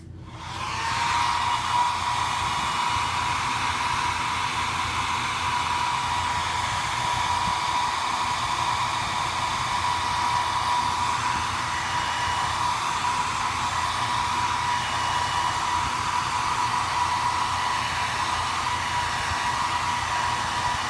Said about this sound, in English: I am going to blow dry that real quick.